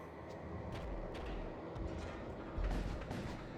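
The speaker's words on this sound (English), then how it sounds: "I'll use the missile to hit the shields" Missile launcher firing at enemy shields in a sci-fi roguelike ship-combat game, with heavy rumbling booms and impacts rolling over a low continuous drone, and a stronger blast near the end.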